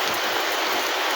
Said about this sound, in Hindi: इधर तो बारिश हो रहा है दोस्तों